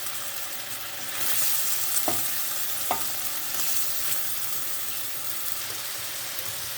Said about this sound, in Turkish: Birazcık bu şekilde kavuracağım.